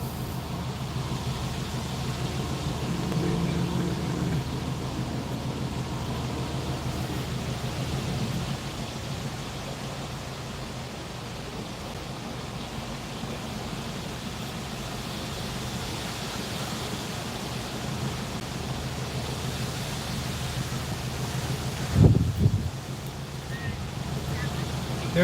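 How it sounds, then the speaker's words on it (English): Strong wind rages outside in a steady, broad rushing roar that holds at a constant level throughout, with a brief low thump near the end. "That wind just will not quit. It's supposed to keep raging overnight too."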